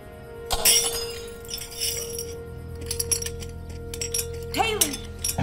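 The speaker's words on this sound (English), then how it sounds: "I knocked over my glass." A drinking glass knocked over indoors shatters loudly, with a sharp crash followed by scattered tinkling shards and a later clink, while a low steady hum runs underneath.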